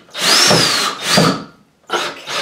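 A power drill drives a screw while a bathroom shelf goes up. Loud, close whirring comes in short bursts: two long runs with a rising whine, a pause, then two quick pulses, with no talk.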